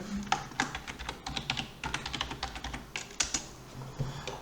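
Someone types a new folder name for Google Drive on a computer keyboard. Quick, irregular keystroke clicks run steadily for several seconds, close up and moderately loud, with no voices.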